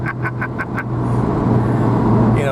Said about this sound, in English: awesome turbo lag drama where you put your boot in it and you wait for it, and then it goes